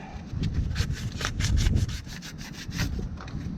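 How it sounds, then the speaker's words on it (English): Back-and-forth scrubbing on a corroded haybob part, a steady rasping rub repeating in quick strokes for several seconds at close range, with no voices. "try and get all the corrosion off it."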